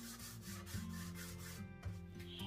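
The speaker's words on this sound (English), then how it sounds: "giving it a nice sand along that edge like this" Hand sanding along the edge of a wooden side table, quick rhythmic back-and-forth scrapes of sandpaper on wood, close and fairly quiet with no talking.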